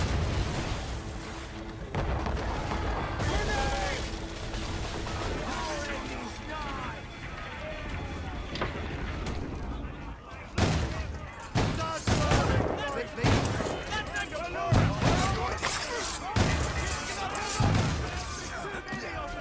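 Naval cannons boom repeatedly in Assassin's Creed Rogue, heavy irregular blasts growing denser in the second half, layered under shouted voices, ship noise and music.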